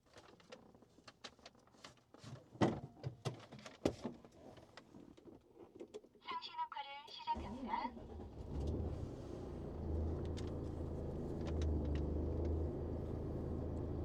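A 2023 Volvo 10.5-ton wing-body truck's engine cranks with a brief starter whine, then settles into a steady, deep, loud idle rumble; a person talks before the start.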